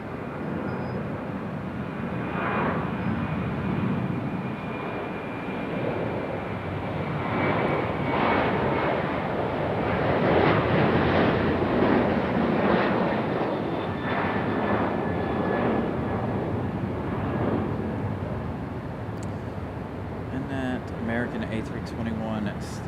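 A United Airlines Boeing 737-900 taxis at Raleigh-Durham International Airport, its steady engine roar rising and falling over about twenty seconds at moderate distance, with voices talking over it.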